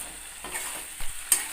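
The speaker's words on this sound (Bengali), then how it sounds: "এবার খুন্তি দিয়ে একটুখানি নাড়াচাড়া করে নেব" Vegetables with a spoonful of sugar stirred with a spatula in a frying pan, soft scraping strokes over a faint sizzle, short and fairly quiet with no voices.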